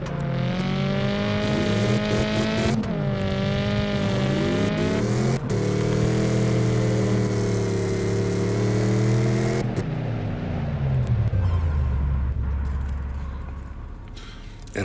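Car engine revving and drifting in the CarX Drift Racing 3 video game, a sustained loud engine drone rising and falling through gear changes, ending in a lower settling growl, with no talking.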